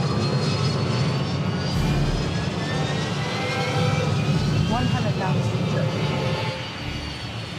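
The jet engines of an easyJet airliner roar steadily and loudly during takeoff, heard from inside the cockpit, with a continuous droning rumble throughout.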